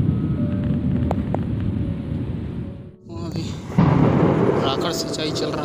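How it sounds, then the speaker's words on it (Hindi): Low thunder rumbles across open farm fields under a storm sky before heavy rain, a steady broad roar that dips briefly midway and then swells louder, with some faint background noise. "देख रहे हैं बादल कैसे गरज रहे हैं।"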